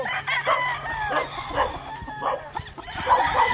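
A Golden Boy sweater gamefowl rooster crows loudly at a Batangas gamefarm, its strained call overlapping other crowing and clucking birds and a faint dog bark in a busy outdoor yard.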